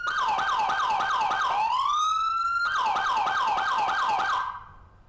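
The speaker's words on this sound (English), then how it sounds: "as any siren is going off, you can use the horn to change the siren" A loud emergency vehicle siren wails in rapid repeating yelps, briefly switches to a long rising tone when the horn is pressed, then returns to yelping before cutting off abruptly.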